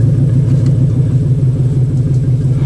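Ford F250 diesel truck engine catching and running while being pull-started in second gear and four-high, a loud steady low rumble throughout.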